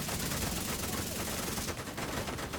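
Gunfire pours at a tank-like enemy in The Division: a dense, continuous barrage of rapid shots, loud and close, with crisp overlapping cracks throughout.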